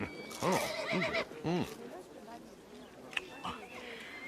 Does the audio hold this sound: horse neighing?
yes